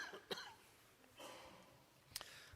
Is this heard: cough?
yes